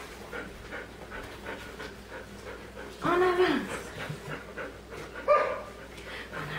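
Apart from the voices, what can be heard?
dog panting during training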